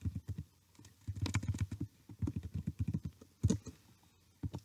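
Quiet, rapid clicks of typing on a computer keyboard come in short uneven bursts with brief pauses, close and soft.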